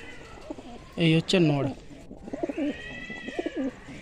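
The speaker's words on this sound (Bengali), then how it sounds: "আপনারা দেখুন বন্ধুরা পায়রাটি" Pigeons in a loft, including a male and a female kept for flying, with a loud bird call near the start followed by soft repeated cooing, while someone talks over them.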